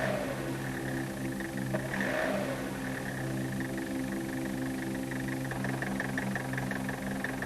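Diesel engine with a distributor-type rotary injection pump, warmed to operating temperature and running steadily at idle, a continuous low hum and knock holding even throughout, with no talk.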